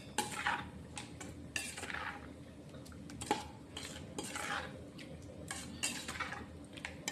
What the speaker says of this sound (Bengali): দিয়ে এই যে সব ভালো করে মাখাচ্ছি